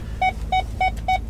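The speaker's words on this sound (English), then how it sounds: "Sorry for that beeping" A truck's backup sensor beeps four times in a quick, even rhythm, each tone short and bright over a low engine rumble.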